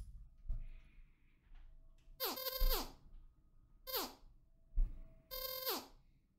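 Short synthesized dialogue blips from a Godot 4 game, one per letter, arriving in quick bursts of rapid chirpy tones separated by brief pauses, fairly clear over a quiet background.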